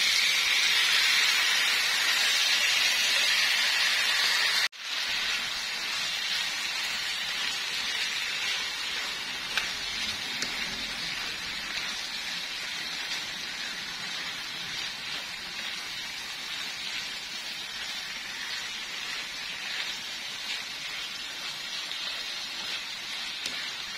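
Pork belly sizzling in a hot pan over high heat during stir-frying, a dense steady hiss that runs the whole time with a brief break early on, close and constant.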